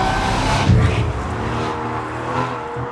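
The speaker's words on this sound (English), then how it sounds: "this car's actually fitted with an aftermarket Quicksilver exhaust" An Aston Martin V12 Vanquish with an aftermarket Quicksilver exhaust roars loudly up close, its engine rising and falling through revs with a deep, resonant exhaust note.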